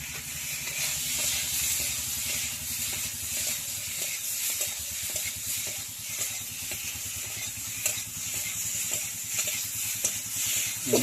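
Potatoes fry in hot tempering oil for a village-style sour prawn curry, a dense, continuous sizzle and hiss with scattered small crackles, close and steady throughout.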